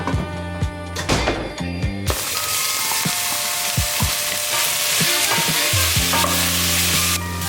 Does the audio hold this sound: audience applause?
no